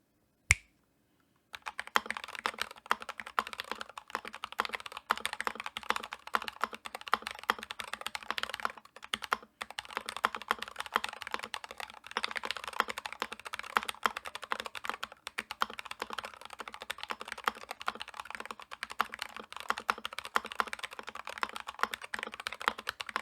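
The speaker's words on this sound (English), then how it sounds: "these keycaps should have a deeper and louder sound, which I hope I can demonstrate with this type test" Keystrokes on XDAS-profile AliExpress keycaps clatter in a fast, steady typing run of about twenty seconds, close and fairly loud with no voices, after a single click and a brief pause at the start.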